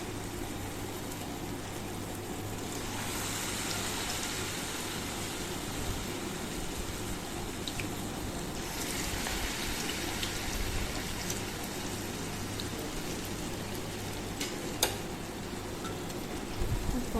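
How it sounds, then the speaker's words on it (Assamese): Maggi noodle pakoras frying in hot oil in a kadai, a steady hissing, crackling bubble that swells slightly as more pieces are added. "তেলখিনি ভালদৰে গৰম হোৱাত এনেদৰে এটা এটাকৈ পকৰা মই দি গৈছোঁ।"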